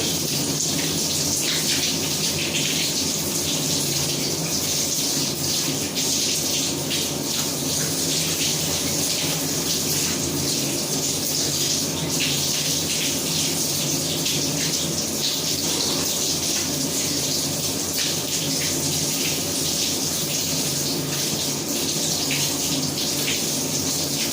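Cold water runs steadily from a bathroom tap during a wet shave with a Gillette Mach 3 razor, a continuous close hiss and splash lasting throughout with no talking.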